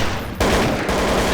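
Gunfire in a shooter video game, loud rapid bursts of shots packed together, with a brief drop before a dense volley resumes.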